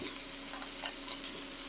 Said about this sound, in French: vous entendez les steaks là qui sont en train de se saisir